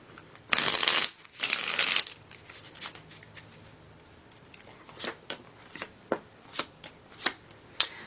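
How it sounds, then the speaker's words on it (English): Tarot cards are shuffled close by: two long riffling bursts, then a series of about ten short, crisp slaps and snaps spaced roughly half a second apart as the deck is cut and tapped. "One more shuffle."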